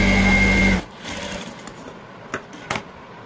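Sewing machine stitching a blouse seam about a quarter inch wide, a loud steady whir for under a second that then stops, followed by quiet room noise with a couple of faint clicks.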